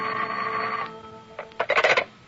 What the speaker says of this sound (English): The phone was ringing when I got to my apartment.